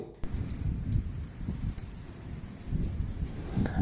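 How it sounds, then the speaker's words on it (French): A violent night thunderstorm rumbles on with continuous low, rolling noise and gusty, wind-battered crackle, heavy and close throughout, with a few sharper bursts standing out from the roar. "nous avons eu un orage d'une violence inouïe, comme en témoigne cette vidéo"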